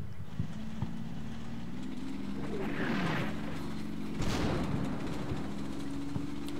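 Distant 81 mm mortar rounds in a World War II-style war game near Troina, heard as a few dull booms over a steady rumbling engine bed with clanking tracks.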